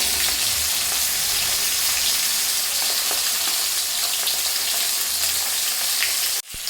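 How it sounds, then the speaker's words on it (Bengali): Rohu fish heads fry in oil with a loud, continuous hiss and scattered pops up close, ending in a sudden brief knock just before the close. "এইভাবে আরেক দিকটা লাল করে ভেজে মাছের মাথাগুলো"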